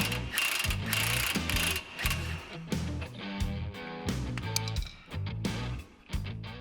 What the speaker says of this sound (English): we next removed the 27mm bottom shock bolt